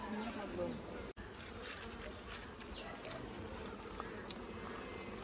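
Honeybees swarm and buzz around hive boxes full of honey during a harvest, a dense continuous drone with occasional louder passes close by and faint background voices.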